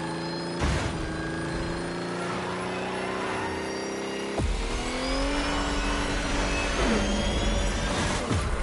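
A Ferrari 308 GTS in The Crew Motorfest on Hawaiian roads, engine note climbing steadily through gears with sharp shift breaks, loud and near, accompanied by whooshing wind and road noise.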